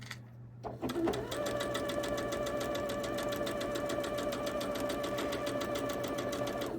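Sewing machine stitching a seam on a gem quilt block, running steadily and evenly for about six seconds after a brief start, close and clear with a fine rapid needle rhythm.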